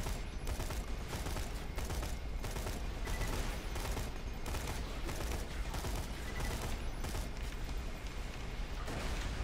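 Continuous gunfire in the shooter game Borderlands 2, in a space station fight: dense rapid shots and mechanical clatter at a steady, fairly quiet level and unbroken throughout, with no speech.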